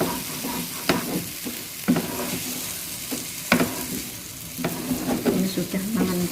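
Thickened banana filling stirred in a pan for baked cakes, with repeated scraping strokes of a spoon against the pan over a soft background sizzle, close and moderately loud.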